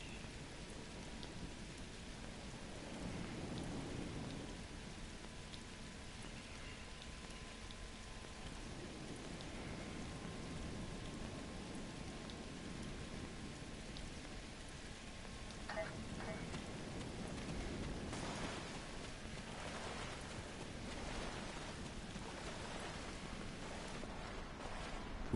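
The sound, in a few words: rain and thunder on Risa in Star Trek Online video game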